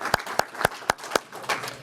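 A handful of separate, sharp claps ring out close by at a steady, measured pace, about seven in under two seconds, honoring scholarship recipients at a Rotary Club gathering.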